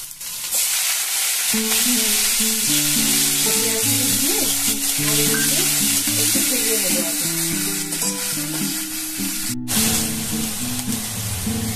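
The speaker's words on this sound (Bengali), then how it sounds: "পেঁয়াজগুলো লাল করে ভাজা হয়ে গেছে।" Onions sizzle loudly and continuously in hot oil up close, while tonal music plays over the frying throughout.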